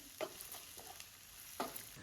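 Sliced onions with a little salt fry in a pan, a faint steady sizzle broken by a few soft stirring scrapes, fairly quiet and with no voices.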